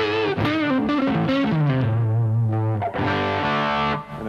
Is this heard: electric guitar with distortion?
yes